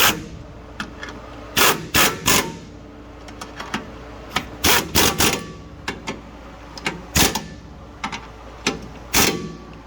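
Bolts on a protective plate beneath the transfer case of a 2013 GMC Sierra being tightened with a 15 mm tool: a series of short, sharp ratcheting clicks and metallic clanks in bursts, close and fairly loud, with no talk.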